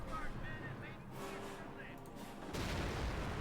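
A Pak anti-tank gun fires in the World War II strategy game Company of Heroes, a booming artillery report with rumbling battle noise around it and a spoken voice nearby.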